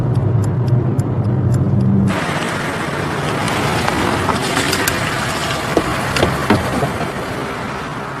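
A car interior hums with a steady road rumble as the vehicle slows and pulls off into a parking area, with a brief clicking indicator-like ticking at first, then broadband tire and engine noise continuing.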